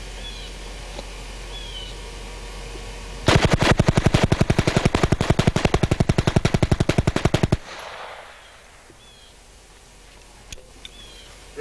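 A JD Jones SSK machine gun fires one long, rapid burst of evenly spaced shots, loud and close, lasting about four seconds. Quiet outdoor ambience with faint bird calls comes before and after.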